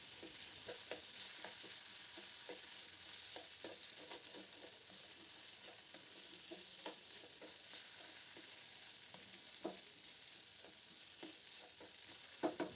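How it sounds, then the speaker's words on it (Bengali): Pumpkin and potato frying in a pan without water, faint steady sizzle with repeated soft scraping strokes of stirring, no voices. "এটাকে একটু ভালো করে নেড়ে দেবো যাতে নিচে লেগে না যায়।"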